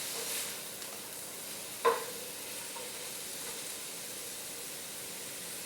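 Soy sauce and oyster mushrooms sizzling in a hot pan, a faint steady hiss with one brief knock of a utensil partway through.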